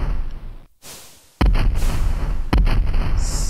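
Cannon fire in the ship battle of Sid Meier's Pirates Gold, booming bursts from enemy ships firing rapidly, loud and close, a couple of heavy blasts with rumbling tails and a brief higher tone at the end.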